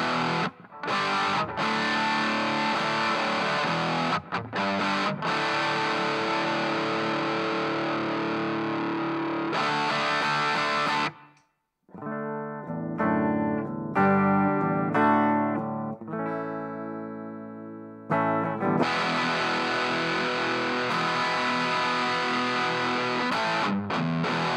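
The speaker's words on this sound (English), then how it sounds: "I'll show you the difference between the distortion pedal switched on and off with the clean tone than the distorted tone." An electric guitar plays through a Boss DS-1 distortion pedal that is switched on, giving a loud, saturated, sustained rock tone. It drops out briefly mid-clip to sparser picked notes, then returns to full distorted chords.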